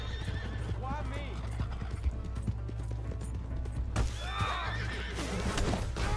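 In Red Dead Redemption 2, a horse whinnies sharply twice amid steady hoof clip-clops, the second neigh louder and closer, over a low background hum and game ambience.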